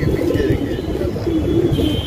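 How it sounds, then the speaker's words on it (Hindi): A pigeon coos at the Nakkhas pigeon market in Lucknow. Soft, repeated throaty coos sound close and steady over a busy background with faint chirps. "ये कबूतर टैडी कबूतर है"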